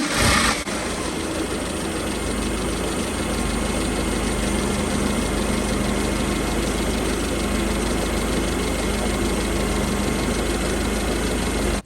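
A rebuilt Mitsubishi 4G63 engine with a mechanical fuel pump fires up after a head gasket replacement, then settles into a steady, loud, close idle with a faint knocking rhythm running unbroken to the end.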